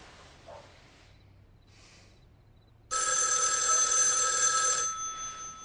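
A telephone bell ringing loudly in a room, a sustained bright metallic ring that bursts in after quiet, faint murmurs and then cuts off into a short fading tail.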